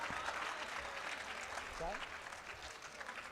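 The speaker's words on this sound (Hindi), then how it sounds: "जरा तालियां बजाइए उनके लिए।" Audience applause at an Urdu poetry bait bazi competition semi-final, a steady wash of clapping from a seated crowd filling the space, with a voice briefly heard over it.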